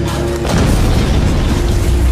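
A bomb explosion sounds as a loud, sustained low rumbling boom that fills the whole stretch after a brief, slightly lighter onset, with no talking.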